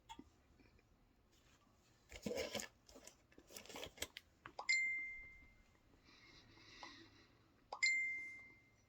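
A tablet sounds two bright notification dings, each a clean tone that fades out, set in a quiet kitchen after some rustling and clinking of handled items.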